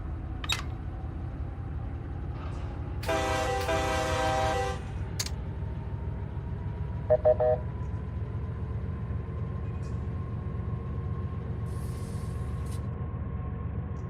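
Diesel locomotive DPUs powering up in the Run 8 train simulator game: a steady low engine rumble throughout, a brief tonal horn-like burst in the middle, and a few faint clicks and short tones.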